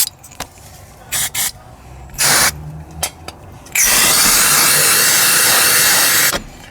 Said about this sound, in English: Just need to give it a clean with some brake cleaner.